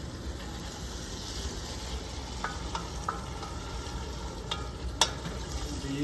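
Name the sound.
ground beef and onions sautéing in a pan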